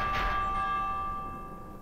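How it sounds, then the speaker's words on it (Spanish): A bell chime with long ringing tones in the video game Minecraft Dungeons, fading slowly with no talk over it. "Las campanadas."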